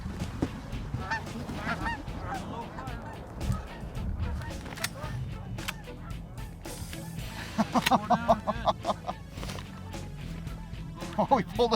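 A flock of geese honks repeatedly in the open air during a goose hunt, calls overlapping near and far, with people talking quietly under them.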